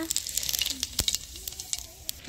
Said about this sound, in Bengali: তেল গরম হয়েছে, এখন দিব গোটা জিরা।